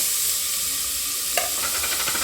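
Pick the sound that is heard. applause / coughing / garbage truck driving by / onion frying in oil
onion frying in oil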